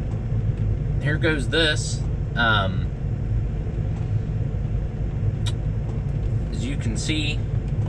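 A Peterbilt truck engine idles with a steady low rumble inside the cab, continuous under a person talking in short bursts.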